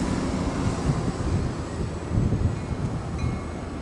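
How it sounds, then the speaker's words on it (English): ACE train number 4, eastbound to Stockton, rumbles steadily while pulling into Santa Clara station on track 1, a low continuous roll with wind buffeting the microphone and no voices. "right now I have ACE train number 4, eastbound to Stockton, now pulling in on track number 1"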